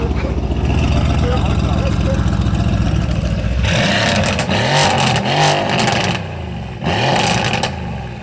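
A supercar engine with a non-original exhaust rumbles and revs loudly up close at a car meet, rising in bursts over a steady low drone, with voices talking over it.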